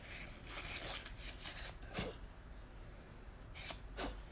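Wooden box drawers being hand-sanded, a steady rasping scrub in repeated back-and-forth strokes, close and fairly quiet, with no talk.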